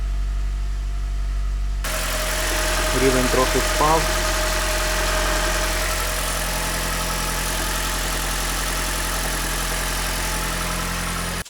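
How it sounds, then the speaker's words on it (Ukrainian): A Toyota Prius engine idles during water pump repair, a steady low hum and drone, while a voice speaks briefly near the start. "Ну що, двигун працює, ніби все рівненько"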